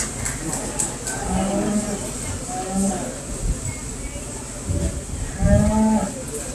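Steers at the 2021 BCJLS annual steer show moo several times in long, low calls. The calls come from nearby against a busy livestock-show background with some voices.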